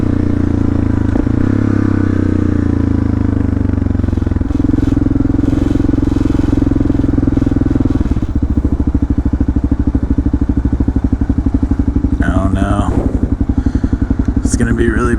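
Kawasaki KLR650 single-cylinder motorcycle rolling up to a highway toll booth, a loud steady engine thrum with wind rumble and the revs dropping as it slows, with a voice speaking over it.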